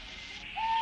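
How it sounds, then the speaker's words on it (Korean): A short owl hoot rises out of a hushed night background and holds a steady, clear tone, as if drifting down from a hill behind. "뒷산에서 부엉이 우는 소리가 들렸습니다."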